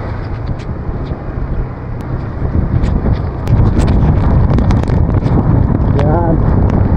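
Heavy typhoon wind during a motorcycle ride on Halsema Highway buffets the microphone in a constant low roar that grows stronger midway, with a faint voice breaking through briefly.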